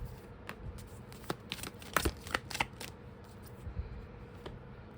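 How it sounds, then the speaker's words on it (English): Tarot cards being shuffled by hand, a run of soft riffling flicks and taps clustered around the middle, fairly quiet against a low background hum with no talking. "I was just shuffling."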